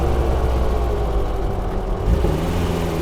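A dune buggy engine with a freshly upgraded motor accelerates hard in second gear, a loud, close, steady roar that rises in pitch with the revs, with no talk over it.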